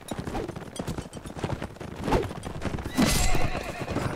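A horse in the Mount & Blade video game whinnies loudly amid rapid clip-clopping hooves and battle clatter, with the neigh rising sharply near the end.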